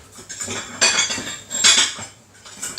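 Teaspoons and other metal cutlery clink and jangle as a hand rummages through them in a kitchen drawer, in several loud, close bursts with short pauses between.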